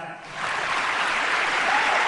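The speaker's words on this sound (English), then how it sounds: "That's a diplomat clap." Crowd at a live party event in Madagascar gives polite applause as an international music producer is introduced, a steady, moderately loud wash of clapping that builds after a brief start and continues throughout.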